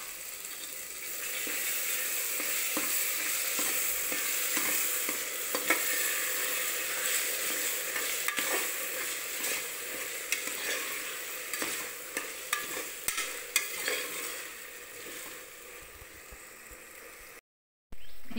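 Vegetables for veg pulao sautéing in a pan, a steady close sizzle with occasional stirring clicks and scrapes running continuously, then a brief gap near the end; no voices.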